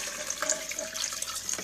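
Chicken stock pours steadily into a slow cooker over meat for cabbage and kielbasa soup, a close, continuous liquid splash and trickle with no talking.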